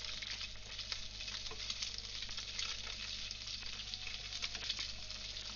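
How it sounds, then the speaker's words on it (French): Tofu cubes fry in a pan for a vegetable poke bowl, a constant close crackling sizzle with light scraping as they are stirred, steady throughout and free of talk. "On remue régulièrement notre petit tofu."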